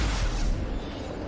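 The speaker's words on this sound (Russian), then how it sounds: "Выстрел." A weapon shot fired from a spacecraft in the space game X Rebirth, heard as a single muffled boom with a rumbling tail that fades over about a second, moderately loud.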